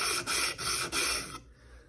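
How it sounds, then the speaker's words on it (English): A flat piece is rubbed back and forth on sandpaper laid over a flat granite tile, giving three steady rasping strokes with brief pauses between them, close and fairly loud, then stopping into near silence. "And you can feel it go nice and smooth on the sandpaper."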